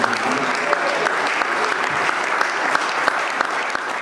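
Church congregation clapping steadily throughout, a dense continuous applause from a crowd filling the space, with faint voices mixed in.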